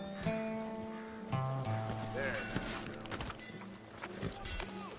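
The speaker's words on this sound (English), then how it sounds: "I'm always happy to stable that horse." Horse hooves clip-clop in Red Dead Redemption 2, a steady rhythmic clatter at moderate distance running under ambient music and brief talk, with a short whinny.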